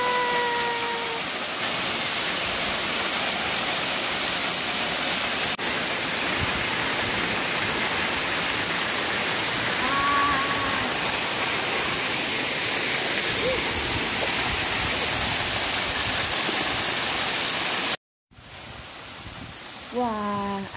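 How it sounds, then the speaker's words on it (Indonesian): Steady, full-band roar of falling water, loud and continuous, with a few faint tonal chirps on top. "ternyata ada air terjun"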